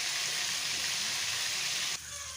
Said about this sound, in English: They are nicely frying and they have nicely browned up.